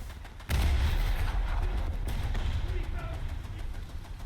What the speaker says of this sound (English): I hear bombs